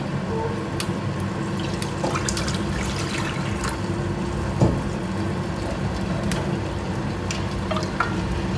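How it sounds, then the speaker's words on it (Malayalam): Water trickles and splashes into a pan of bitter gourd and dal curry, a steady soft liquid sound with a few faint clinks, no talking. "ഇതിനകത്ത് കുറച്ച് വെള്ളം ഒഴിക്കാം."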